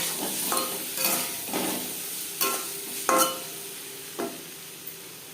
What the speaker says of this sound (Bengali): দু চামচ সরষের তেল গরম করে নিয়েছি। তাতে অ্যাড করেছিলাম সামান্য পরিমাণে হলুদের গুঁড়ো, আর দিয়ে দেব লবণ